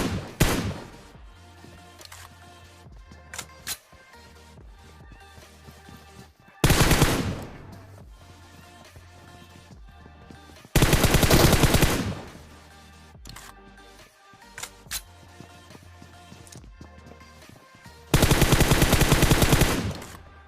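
Gunfire in the mobile game PUBG Mobile Lite, with several loud sustained bursts of rapid automatic fire separated by quieter stretches of scattered single shots and game ambience.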